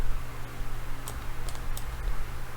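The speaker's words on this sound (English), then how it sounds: "Let me just erase." A board eraser rubs across writing in a brief scratchy stretch, with a few sharp swipes over a steady low room hum and no talking.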